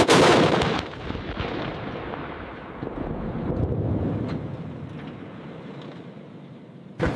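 A K2 Black Panther tank fires its main gun: one sharp, heavy blast at the start, followed by a long rumbling roll of echo and wind buffeting that fades slowly, then another thump right at the end.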